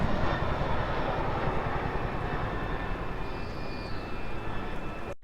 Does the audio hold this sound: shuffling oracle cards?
no